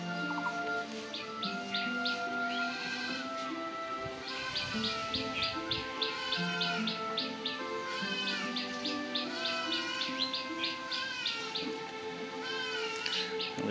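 Myna birds and other birds chirp and chatter in a custard apple tree while feeding on the fruit, with dense, overlapping calls that continue throughout and no voices.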